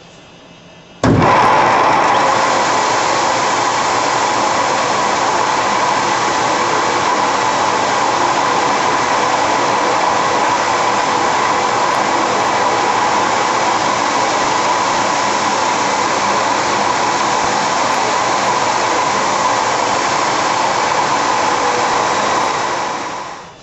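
Rotary sanding tool running against a manzanita wood bowl: a loud, steady, broadband whir that switches on abruptly and holds unbroken for over twenty seconds before tapering off at the end.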